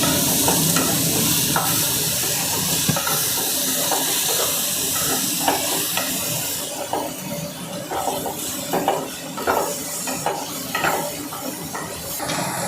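A spatula stirs coriander powder spice mix through soya chicken rice in a hot pan, with a steady, loud sizzle and hiss under repeated scraping strokes that grow more distinct in the second half.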